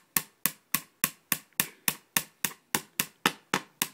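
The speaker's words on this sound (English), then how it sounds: "I'm going to use my little broken hammer and just tap it." A small broken hammer taps a part into the bottom of a Tiberius Arms magazine, about fourteen sharp evenly spaced knocks in a steady quick rhythm, close and alone.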